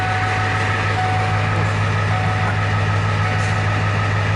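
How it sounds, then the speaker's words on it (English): An engine idles steadily while warming up, a constant low droning rumble with a faint whine on top, close and unchanging throughout. "Engine warming up a little bit, oil starting to heat up, oil pressure starts dropping"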